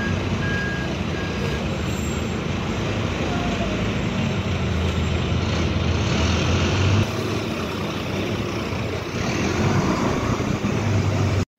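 A bus drives into St. Ives, Cornwall, with a heavy, steady engine rumble and road noise that stays loud and close the whole way, and repeated beeps like a reversing alarm sound along with it.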